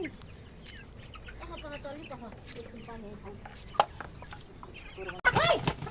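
Several hens cluck and murmur close by in an irregular chatter while being fed grain, a louder squawk near the end, with a person's voice faint in the background.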